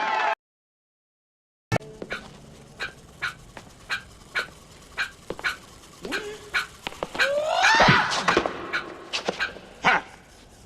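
A voice imitates a dog, producing a rapid series of sharp, close barks, yips and whimpers after a short silent gap, with a louder whining, howling stretch near the end.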